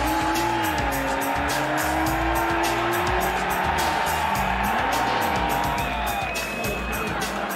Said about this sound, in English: The drifting here at GT Live is intense